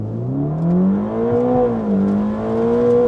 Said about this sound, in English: Foot is firmly on the brake, pin the throttle, it's gonna hold the revs, let it go